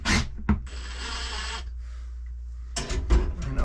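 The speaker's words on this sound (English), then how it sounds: "I can just back these screws out a hair" A screwdriver or drill backs screws out of woodwork inside a wooden boat, with a steady mechanical whir for about a second between short clunks and bumps, close by and without speech.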